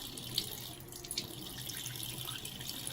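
Water runs from a tap in a faint, steady trickle with a few soft drips, a little water drawn for mixing a cleansing powder paste.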